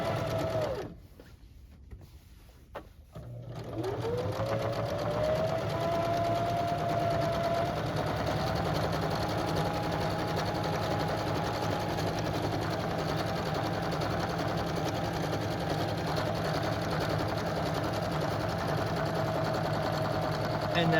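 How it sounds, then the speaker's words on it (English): A sewing machine stitching a pillowcase seam runs in a steady, even whirring hum. A short pause with quieter handling comes early, then continuous stitching resumes close and clear to the end. "we'll finish out our seam"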